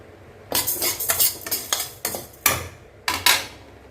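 Toor dal being dry roasted in a pan, stirred with a utensil that scrapes and clinks against the metal in quick irregular bursts, close and fairly loud, no talk.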